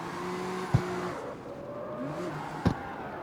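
A Tokyo Drift Mustang in the CarX Street driving game drones along at a steady engine hum, with two sharp transient knocks and a brief pitch swoop as it drives, no talk.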